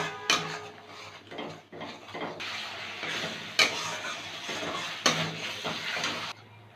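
Spice masala for prawn malai curry, with turmeric, cumin and Kashmiri chilli powder, stirred and fried in a pan: repeated scraping clinks of a spoon against metal over a soft, steady sizzle, close and fairly quiet.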